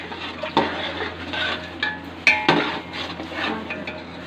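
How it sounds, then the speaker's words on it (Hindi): Korma masala with large potato chunks is stirred and fried in a pot for mutton biryani: a spoon clinks and scrapes against the metal several times at irregular moments over a faint background hiss, close by, with no voices. "5 मिनट तक इसको हम अच्छी तरह भूनेंगे।"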